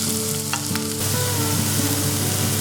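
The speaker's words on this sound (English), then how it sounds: "now the oil is hot and I'm gonna add the garlic first, followed by the onions" Garlic and onions hitting hot oil for a cream paneer dish, a loud close sizzle and crackle with a stirring clatter in the pan.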